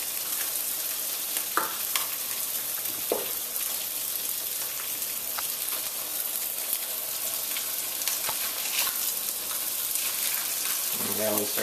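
Trout dusted in rice flour sears in a hot skillet, a steady close sizzle and crackle of frying running throughout with a few faint clinks of the pan.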